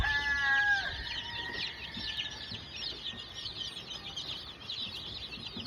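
Roosters and hens cluck in a repeated, busy stream at moderate distance, with a brief higher call at the start and soft outdoor ambience. No one talks.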